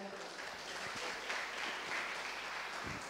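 Audience applause at a youth speech competition final, a fairly faint patter of clapping that holds steady throughout with a little background voice mixed in.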